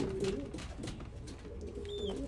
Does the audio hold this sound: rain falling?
no